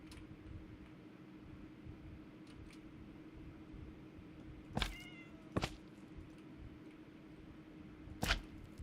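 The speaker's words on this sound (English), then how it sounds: "I prefer to use a different animal that's not the cats, because the cats are too noisy." Minecraft cats meow a couple of times over a steady mechanical hum, with a sharp click or snap near the end.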